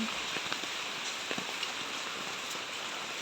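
Typhoon Guring rain patters down in a garden where plants are being watered, a steady hiss broken by scattered soft drips and taps nearby, with no talking.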